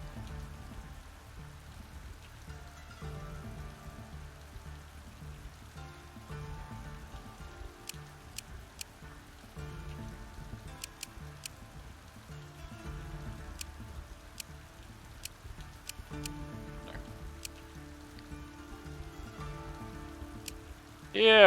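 Steady rain patters on surfaces in the fantasy strategy game Thea 2, a soft, continuous hiss with occasional crisper drops, fairly quiet throughout and briefly swelling at the very end.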